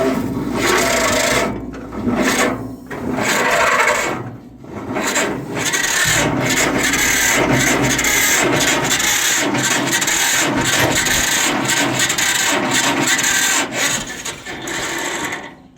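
A starter cranks an old tractor, either a 1947 Farmall A or a 1954 John Deere 60, in a loud, continuous grinding churn close by. It breaks off briefly a few times, then keeps on without the engine catching.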